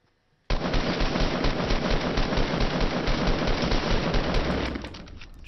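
Sustained rapid automatic fire from an assault rifle in the Fortnite battle royale video game, a dense continuous burst lasting about four seconds after a short silence, loud and alone before tapering off.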